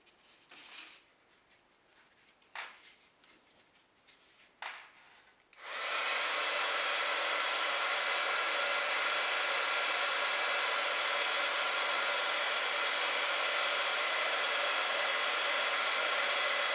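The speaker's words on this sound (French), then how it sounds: "Et je vais venir passer mon pistolet à chaleur." A heat gun blowing hot air over glitter embossing powder on a craft piece starts after a few soft handling knocks, then roars as a loud, steady, even hiss until the end.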